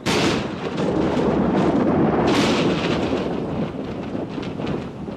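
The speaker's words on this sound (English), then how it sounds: "Thunderstorms." Thunder during a summer thunderstorm rolls in a long, loud, continuous rumble close by, with a sharper crack-like burst partway through before it slowly fades, and no voices.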